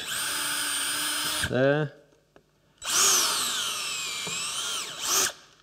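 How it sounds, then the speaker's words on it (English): An electric drill with a 3/16 bit bores through a piece of wood in two loud, sustained whining bursts separated by a short pause, with a brief spoken word in the gap. "I'm going with a 3/16 bit through the first piece of wood"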